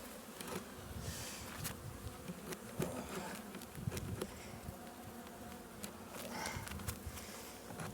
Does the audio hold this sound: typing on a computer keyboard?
no